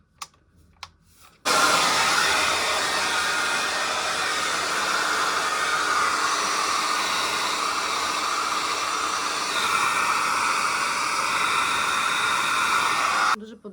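A hair dryer blows in a loud, steady whoosh for several seconds after a few faint clicks, then shuts off abruptly.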